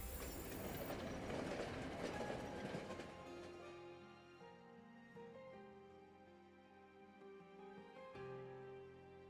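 A heavy train lurches and rolls in the video game Monster Train, opening with a dense metallic clatter that settles into a rumbling ride with a bright ringing tone and another jolt near the end.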